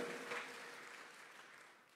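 Faint, steady applause from a church congregation during a sermon, a soft wash of clapping that slowly fades over two seconds.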